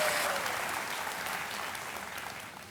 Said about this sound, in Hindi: एक बार फिर तालियों के साथ आपका अभिनंदन करते हैं